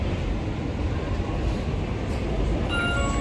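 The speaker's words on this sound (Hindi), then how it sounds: "आ गई मेट्रो, देख रहे मेट्रो आ गई गाइस" A metro train arriving at a station platform gives a steady, loud rumble and rolling roar throughout, with faint high tones near the end.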